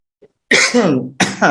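A single harsh cough close up, followed quickly by a second shorter cough, in otherwise quiet surroundings.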